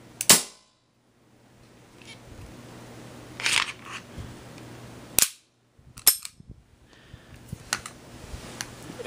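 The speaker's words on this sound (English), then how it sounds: "I'm gonna fire it this time" Taurus PT99 CO2 blowback airsoft pistol being decocked and fired, with a few sharp, loud single cracks and clacks spaced apart in quiet, plus lighter mechanical clicks between them.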